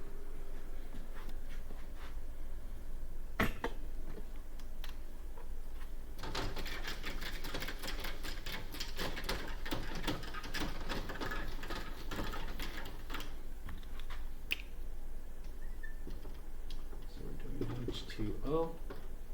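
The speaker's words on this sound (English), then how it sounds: "Let's write that down for H2O." A pen scratches out chemistry notes on paper in dense bursts of quick, close writing strokes, with a voice speaking over the scratching.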